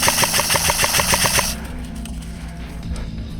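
Airsoft gun firing during an outdoor airsoft game, a rapid full-auto burst of clicking shots for about a second and a half, close to the player, followed by quieter field ambience.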